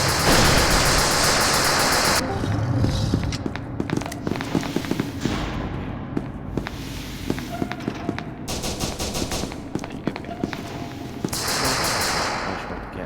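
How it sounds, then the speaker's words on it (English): A grenade detonates in SCP: Secret Laboratory amid dense, crackling bursts of gunfire and debris, loud and continuous for several seconds with brief louder surges of noise. "They threw a grenade."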